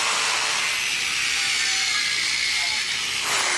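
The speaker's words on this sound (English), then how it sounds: "Watch the way it does a precision cut on this." A DualTools CS450 compact power saw cutting crown molding: a steady, loud high-pitched motor whine with a constant grinding rasp throughout, its pitch dropping slightly near the end as the cut finishes.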